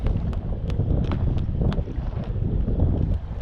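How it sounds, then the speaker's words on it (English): Strong wind roaring across open water around a fishing kayak, a loud steady buffeting rumble with gusts and sharp splashes and knocks as the hull bounces on the swells. "So guys, the wind is like really up right now."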